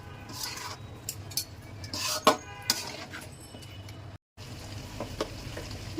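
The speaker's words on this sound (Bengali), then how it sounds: "এখন মাংস আর আলু একসঙ্গে সুন্দরভাবে কষায় নেব।" Small pieces of home-raised pigeon meat and potatoes fry together in a pan with a close sizzle, broken by a few sharp clinks of a spatula against the pan and a brief silent gap.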